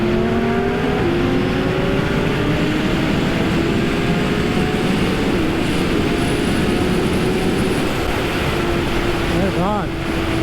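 Aprilia RSV4, BMW S1000RR and Honda CBR1000RR sport motorcycles roar hard, engine pitch climbing steadily under acceleration, loud and close with constant wind rush throughout.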